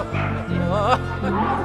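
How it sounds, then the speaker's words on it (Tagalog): A dog barks and yips nearby in a short, whiny burst, its voice rising and wavering. "Aso."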